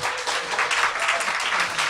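A studio audience on a Korean political talk show gives a brief burst of even, dense applause, moderately loud and without speech.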